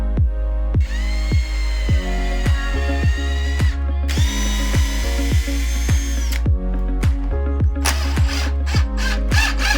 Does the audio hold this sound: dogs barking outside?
no